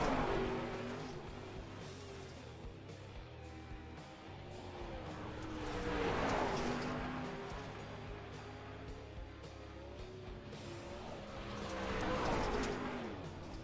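A 360 winged sprint car runs laps on a dirt racetrack, its engine note rising and fading in repeated passes as it swings by at a distance, with faint crowd and ambient track noise throughout.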